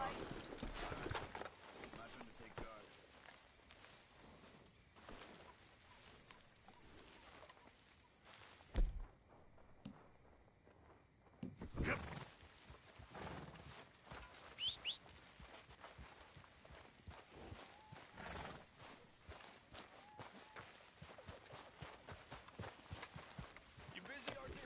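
Hoofbeats of a galloping horse in Red Dead Redemption 2, a fast continuous clip-clop that runs throughout with a short break, heard alongside other game sounds.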